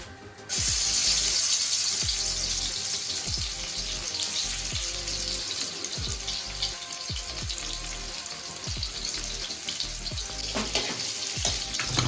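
Garlic fries in hot oil, a loud, dense sizzle that bursts in and holds steady, with faint rhythmic scrapes of a spoon stirring throughout.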